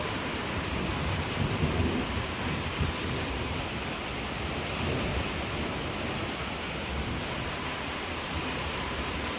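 A thunderstorm pours steady, dense rain while thunder rumbles low and distant, a constant hissing wash at moderate volume with a heavier roll of thunder early on and no voices.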